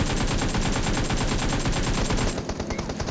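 Rapid automatic gunfire from the video game PUBG Mobile rattles in a dense, loud burst lasting about two seconds, then a few scattered shots trail off.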